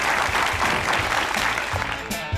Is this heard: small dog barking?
no